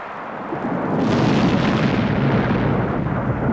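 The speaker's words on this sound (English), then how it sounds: "A horrendous eruption of the Novarupta volcano." Deep, sustained roar of the 1912 Novarupta volcanic eruption in Alaska, swelling in after a second into a loud, continuous rumbling blast that fills the low end and holds steady to the end.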